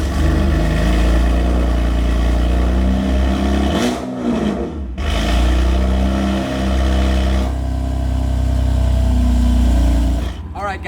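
A car fitted with a CC muffler and a flame tune, run open dump, revs loudly up close in a series of sustained throttle blips with short drops back to idle between them.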